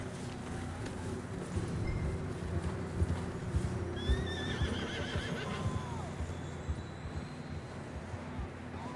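Horses in the video game Red Dead Redemption 2 whinny several times over steady clip-clopping hooves and a low rumbling background, with the neighs rising clearly in the middle.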